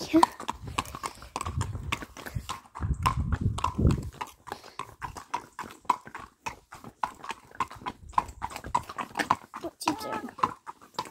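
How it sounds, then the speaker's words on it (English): A ridden horse's hooves clip-clop across a stubble field in a steady, close rhythm that continues throughout, with small breaks in the beat. "We are riding into the stubble now."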